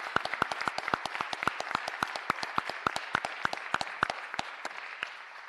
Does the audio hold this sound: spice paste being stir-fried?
no